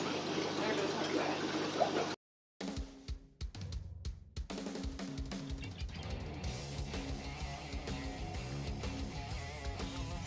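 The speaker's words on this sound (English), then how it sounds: "you've got the long bubble bar all the way across the bottom of the tank under the sand" Long aquarium bubble bar running the width of a 5ft Central American cichlid tank beneath the sand, giving a soft, continuous bubbling and gurgling with a brief break, heard from close by.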